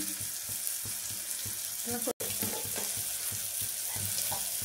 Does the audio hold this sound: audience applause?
no